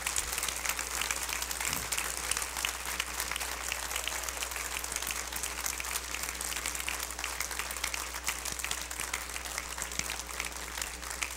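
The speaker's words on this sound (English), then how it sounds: "just clap your hands and give God praise today" A church congregation claps their hands in praise during a service, a continuous, somewhat distant wash of many hands clapping over a low steady hum, with no break for over ten seconds.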